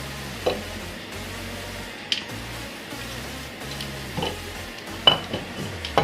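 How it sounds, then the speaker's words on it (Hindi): Light metallic clinks and taps as a cylinder head is fitted onto a Pulsar 150 motorcycle engine, a few sparse, close knocks over quiet workshop background. "हेड को पहले ही कंप्लीट कर लिया था, अब हेड को फिट करते हैं"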